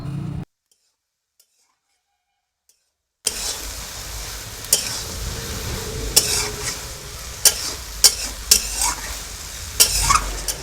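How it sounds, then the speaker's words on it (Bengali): Kochur loti (taro stolons) being stirred with a little mustard oil in a pan after a silent pause, soft sizzling under repeated spoon scrapes and clinks against the pan, close and fairly quiet. "এরপর হালকা নাড়াচাড়া করে অল্প একটু সরিষার তেল দিয়ে নামিয়ে নিতে হবে।"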